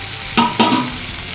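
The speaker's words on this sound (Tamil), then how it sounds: "நல்லா வதக்கிக்கலாம்." Vegetables with tomato and broad beans are sautéed in a hot pan, a steady sizzle broken by two quick scraping stirs close by, with no talking.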